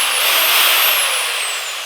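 A Bosch GSB 10 RE corded impact drill runs close up with a loud, high, steady whine while tightening a hex socket, the pitch sagging slightly as it loads toward the end.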